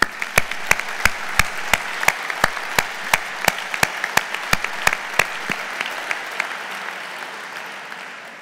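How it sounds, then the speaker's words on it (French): Audience applause after a closing speech at a regional territorial assembly, steady dense clapping with a strong rhythmic unison beat of synchronized claps that fades out toward the end. "Je pense qu'ils méritent toutes et tous nos applaudissements"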